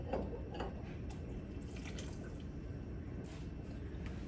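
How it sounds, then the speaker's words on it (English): Water splashing and trickling into a sink, a steady gurgling pour with a few drips, fairly quiet and close. "pour some of this water into the sink"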